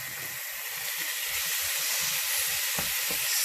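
Rinsed canned red kidney beans hit a hot pan and sizzle steadily, a bright continuous hiss with faint scraping and clicking underneath, close and fairly loud, no voices.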